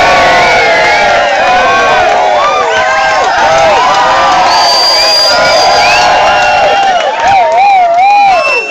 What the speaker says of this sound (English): Wild cheering!